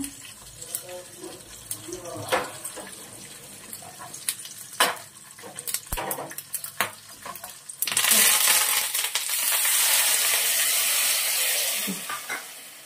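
Black mustard seeds and four or five green chilies hit hot oil while making dhokla, starting with scattered crackles and pops, then swelling into a loud, steady sizzle that slowly fades.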